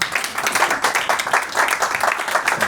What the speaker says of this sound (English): the round of applause there for getting through 55 slides in 6 minutes